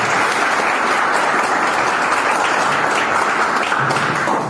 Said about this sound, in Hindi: सर्वप्रथम नीतीश सर के लिए जोरदार एवं धमाकेदार तालियां मेरे दोस्त